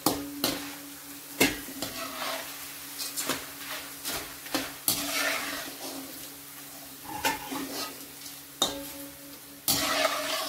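Corn kernels fry in a pan as a topping for poha, a steady sizzle broken by repeated scrapes and knocks of a spoon stirring against the metal, close and moderately loud, with no talk.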